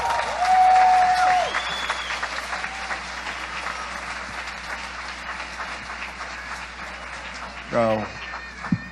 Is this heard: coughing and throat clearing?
no